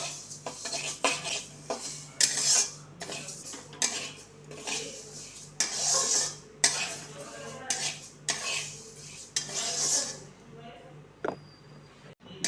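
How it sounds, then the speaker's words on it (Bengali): Mung dal dry-roasts in a kadai, stirred with a metal spoon that scrapes and clinks against the pan in irregular bursts, close and fairly loud, with a voice speaking at times. "এবার আমি ডালটা বেশ ভালো করে লাল লাল করে ভেজে নেবো"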